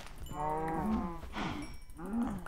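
Minecraft cows moo close by, two drawn-out bovine calls with a short gap, loud and clear with no talking.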